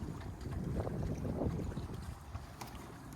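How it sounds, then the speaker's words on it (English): A sailboat running fast on a broad reach, wind across the starboard side with the boom out, makes a constant rush of water and heavy wind buffeting against the microphone, with no talk. "We're here on a broad reach, and what that means is the wind is coming across the starboard gunnel"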